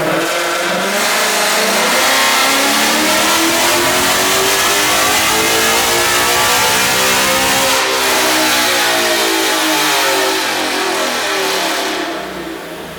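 A race car engine revs loudly and continuously during a warm-up cruise, its pitch climbing and falling in steady sweeps with no talking.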